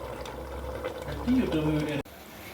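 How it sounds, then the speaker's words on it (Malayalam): Masala curry bubbling in a clay cooking pot, a steady low simmering burble with a voice murmuring over it before the sound cuts off abruptly near the end. "നന്നായി തിളച്ച് തുടങ്ങിയിട്ടുണ്ട്"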